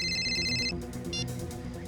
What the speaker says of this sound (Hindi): क्यों फोन कर रहा है मुझे?